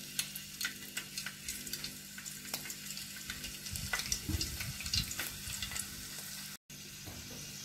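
Two or three garlic cloves fry in hot oil while gavran fish is being prepared, giving a steady close sizzle with crackles and a few louder bursts of stirring and spatter, no voices.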